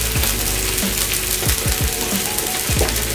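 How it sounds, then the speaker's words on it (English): Beef browning in a hot pan for Mongolian beef gives a loud, continuous sizzle, broken by several quick scraping sweeps as the meat is stirred. "you want to have that nice sound of that beef just browning up"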